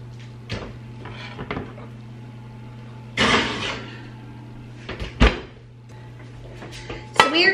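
An oven door swings and shuts with several hollow knocks and clunks, close by in a quiet kitchen over a steady low hum, including a louder bang mid-way and a rattling clatter near the end; no one talks.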